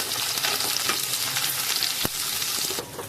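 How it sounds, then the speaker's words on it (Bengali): Eggplant pieces frying in hot oil with browned garlic in a pan, giving a loud, continuous, close sizzle with an occasional clink of a utensil, no talking. "বেগুনগুলো দিয়ে ভালোভাবে ভেজে নেব"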